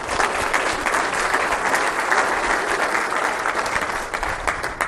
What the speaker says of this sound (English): I'd like to also give all of them a big round of applause here this morning